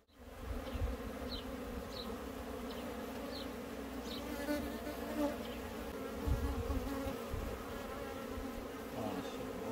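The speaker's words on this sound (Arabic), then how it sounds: "بس النحل ما شاء الله تبارك الله كميته كبيرة في الفراغ" A large swarm of honey bees hums steadily around a hive that has begun building comb, a dense continuous buzz with individual bees flying close past the microphone.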